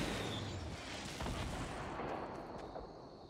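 RPG rocket launcher fire in Fortnite Battle Royale: booming blasts and bursts over a dense, rumbling backdrop of battle noise lasting a few seconds, no voices.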